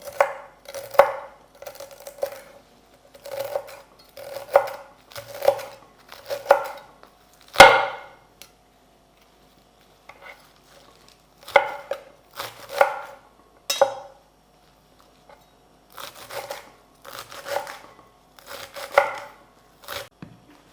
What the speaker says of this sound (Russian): Мелко режем зелень.